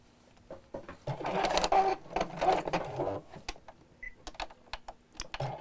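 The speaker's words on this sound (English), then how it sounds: "I'm just sewing quite close to the edge of the seam, about an 1/8 of an inch away" A sewing machine top-stitches about an eighth of an inch from the edge of a fabric seam on a simple book cover. It runs in short stop-start bursts of rapid stitching, close and moderately loud, with no talking.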